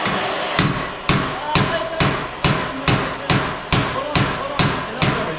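A large socket is hammered against a custom stainless steel exhaust on a BMW 330d E90, about ten sharp metallic blows in a steady rhythm, close and loud.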